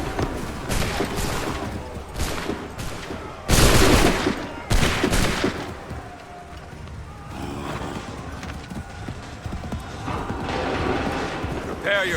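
Redcoat soldiers fire musket volleys in Assassin's Creed III, a series of sharp, loud bangs with one big crashing volley, followed by shouted commands, horse hooves and battlefield clatter.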